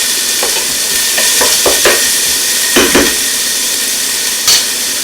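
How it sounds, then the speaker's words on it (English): Vegetables for butternut squash soup sautéing in a hot pan, a steady broad sizzle with scattered scrapes and stirring clatter, fairly loud and close, no voices. "we're going to saute this until it's translucent."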